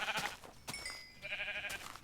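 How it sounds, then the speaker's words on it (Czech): Video-game sheep give two or three nasal, wavering bleats in quick succession, close and fairly loud, with short gaps between them. "Ovce."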